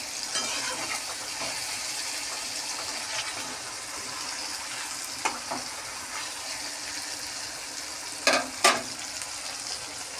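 Steady sizzling of onions frying in oil until reddish-brown for goat meat curry, with occasional stirring scrapes and clinks near the end; no voices.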